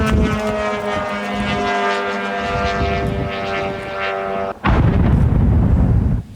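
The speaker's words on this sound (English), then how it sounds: "you can hear a drone flying overhead before an explosion" A drone flying overhead in Kyiv during a Russian attack, a loud, steady buzzing propeller drone, cut off abruptly by a heavy explosion that turns into a sustained roaring rumble.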